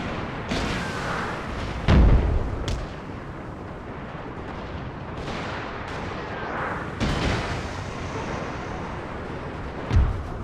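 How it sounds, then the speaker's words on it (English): Deep artillery booms from Union cannon batteries in Napoleon: Total War, firing at intervals, each a heavy thud with a rolling tail, over constant battlefield rumble and distant crackle. "I just utilize all the artillery batteries on my right flank to just keep pounding his positions."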